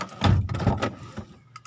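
A Mazda2 car door thumps shut and is opened again, a couple of close, short dull knocks with a faint latch click after them.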